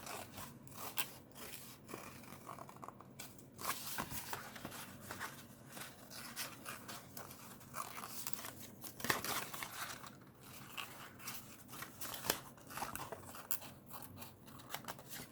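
Quiet, steady snipping and papery crinkling from scissors cutting paper, close by, with small scrapes and rustles throughout.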